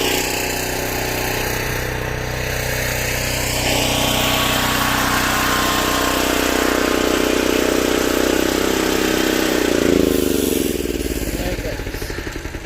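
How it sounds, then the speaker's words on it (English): A generator engine drones steadily at close range in a snowy riverside setting, holding a constant mid-pitched hum before winding down and shutting off near the end. "Time to turn off the generator."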